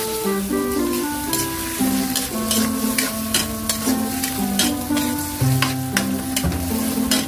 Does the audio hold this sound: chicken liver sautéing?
yes